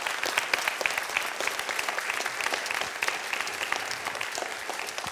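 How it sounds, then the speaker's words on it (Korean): A large audience claps steadily and loudly at a motivational talk about using the brain to transform one's life, a dense continuous applause with no voices over it. "If you agree then please clap."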